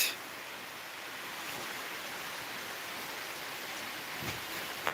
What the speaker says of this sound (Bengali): বৃষ্টি হচ্ছে আজ